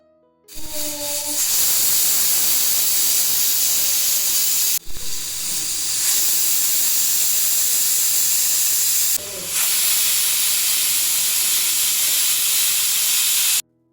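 Steam hisses loudly and steadily from a pressure cooker releasing its built-up pressure, broken by two short pauses partway through, then resuming at full force.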